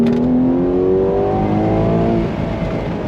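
An 830 hp Ferrari 12Cilindri Spider V12 accelerating out of a corner, a loud, close engine note rising smoothly in pitch through the revs before easing off near the end.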